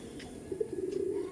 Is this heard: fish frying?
no